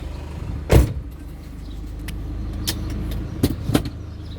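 Car being test-driven after an ABS brake repair, heard from inside as a steady low engine and road rumble with a few sharp knocks and clicks, close and without talk.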